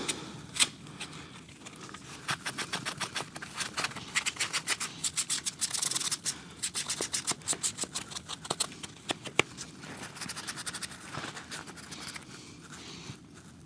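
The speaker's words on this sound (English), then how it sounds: "that's cleaned up really well just from the couple seconds I've been scrubbing on it" Vintage tobacco pipe scrubbed with a magic eraser: steady close rubbing and scratching strokes in a quick irregular rhythm, fairly quiet, with no talking.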